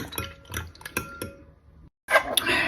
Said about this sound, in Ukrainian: Я їх гарненько зараз переколошмачу.